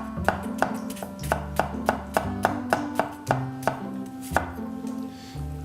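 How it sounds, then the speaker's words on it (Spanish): A knife slicing an onion from top to bottom on a cutting board, about a dozen crisp, evenly spaced taps in a steady rhythm, close and clear. "Vamos a laminar esta cebolla de arriba abajo sin llegar al final, le dejamos una parte entera."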